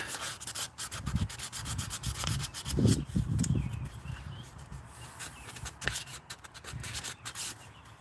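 Hand sanding with a sheet of sandpaper on what sounds like wood, close rhythmic rubbing strokes in uneven bursts with short pauses between them.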